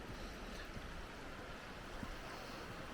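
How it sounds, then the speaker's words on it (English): Water rushing along a secluded creek beside a small waterfall, a steady broad hiss and churn close by, constant and even throughout, with no voices. "We are right next to the water, as you can tell."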